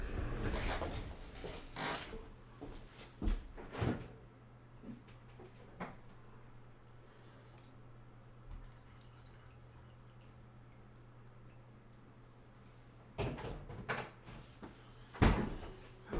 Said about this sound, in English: I'm going to grab me some of my Brita filtered water, and I'll be right back